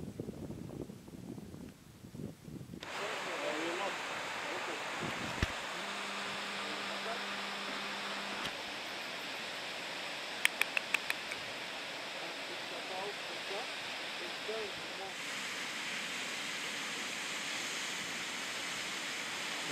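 A waterfall in Morocco rushes as a broad, steady hiss of falling water that fills the scene for most of its length, while people talk over it at first and a few brief clicks and a low tone break in.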